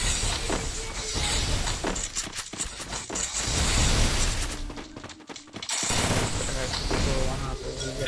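Short-range gun firing in a custom match of a battle-royale video game: a dense, near stream of rapid shots and impacts. The bursts keep going with a brief lull partway through.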